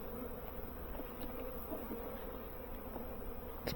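Honeybees coming out of winter drone around an open hive frame, a steady close buzzing swarm with occasional louder passes near the microphone.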